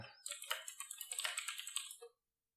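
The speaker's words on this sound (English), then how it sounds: "Clickety-clackety, clickety-clackety. Love that mechanical keyboard." Rapid clicky keystrokes on a mechanical keyboard, a quick close burst of typing lasting about two seconds before stopping.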